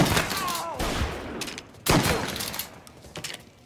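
Gunfire erupts in a Mafia game shootout: a loud volley of overlapping shots, a pause, then a second sharp burst that fades into scattered cracks.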